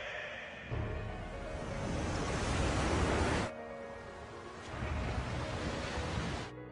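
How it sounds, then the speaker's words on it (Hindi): Roaring tsunami waves from an anime film, a heavy broadband wash of surging water that rises to a loud crest, drops away abruptly, then swells again before cutting off, with no voices over it. "सुनामी लहरों की ऊंचाई 200 मीटर की है।"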